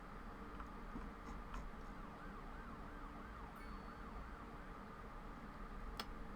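An ambulance siren wails in the city-building game Cities: Skylines II, its rising and falling tone sweeping steadily over a dense, constant hum of city traffic.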